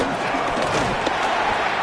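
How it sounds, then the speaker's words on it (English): A stadium crowd in Madden 26 roaring on its feet before a third down, a loud, continuous wash of cheering with faint claps, under a commentator's voice. "Crowd on their feet for 3rd and 4"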